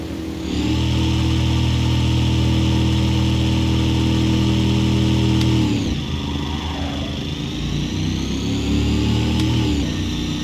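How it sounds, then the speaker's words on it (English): Race car engine in Assetto Corsa holding high revs for several seconds, then dropping and climbing again through gear changes, loud and close with a steady mechanical drone. "Start building the revs early because they take a while to climb."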